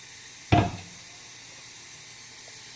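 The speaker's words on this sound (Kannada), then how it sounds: "2 ಕಪ್ ನೀರು ಹಾಕಿ" Two cups of water poured into a hot frying pan for vermicelli payasam: a single loud sizzling burst near the start that quickly fades into a faint hiss.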